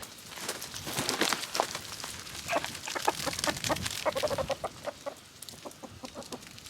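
Several chickens cluck and murmur nearby in quick, overlapping bursts, a busy flock chattering with no one speaking.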